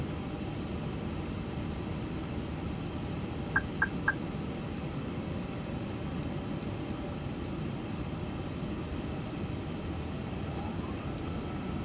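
Airbus A350 jet engines hold a steady, even roar during a go-around in a flight simulator, with three short tones sounding in quick succession early on.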